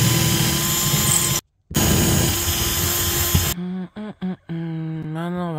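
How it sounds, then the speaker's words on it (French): A power drill bores holes for wall plugs while fitting out a camper van, running loud and steady for a few seconds with one short break. It then stops and gives way to short pauses and a faint tonal whir. "je vais percer, je vais mettre une cheville"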